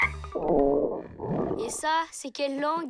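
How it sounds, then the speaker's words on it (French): A cartoon character's hungry stomach gives a long, loud, growly rumble for about a second and a half, like a low roar, then a child-like voice speaks. "Ça, c'est mon ventre. J'ai faim."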